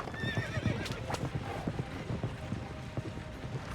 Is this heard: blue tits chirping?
no